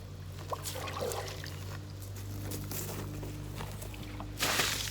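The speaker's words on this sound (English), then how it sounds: "I'm going to take my little bucket here and just start draining the water." Water sloshes and trickles as it is scooped and poured, with soft splashes and a low steady hum underneath, ending in a louder splash.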